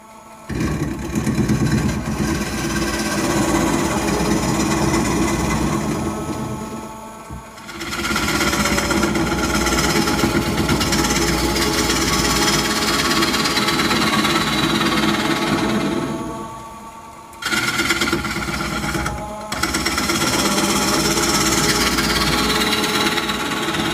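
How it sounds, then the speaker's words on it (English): Gouge cutting into a walnut bowl blank spinning on a wood lathe, a loud continuous rough chattering drone with the motor hum beneath, broken by two short pauses between passes. "you just make a series of cuts like that, and eventually you'll work your way out to the meat of the wood"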